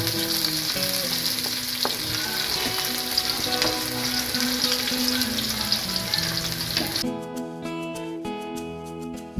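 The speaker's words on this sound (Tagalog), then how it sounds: "Gisa-gisa muna natin to." Pancit bihon ingredients sauté in an old, antique wok, giving a loud, steady sizzle with stirring scrapes that runs continuously, then shifts to a thinner, quieter frying texture for the final couple of seconds.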